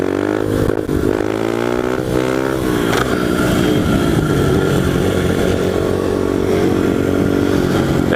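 Small pit bike engine revving hard while being ridden and wheelied, loud and close throughout, with its pitch climbing and dropping as the throttle is worked, and no voices over it.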